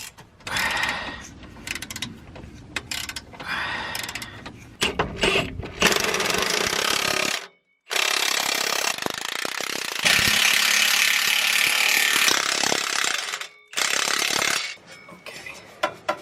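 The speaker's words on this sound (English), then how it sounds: "drill with a socket, start wrenching down on some of those clamps" A drill driving a socket snugs up an exhaust band clamp on the turbo downpipe of a 2007 Ford F-250 during a 4-inch MBRP exhaust install, giving loud whirring and rattling bursts separated by short pauses.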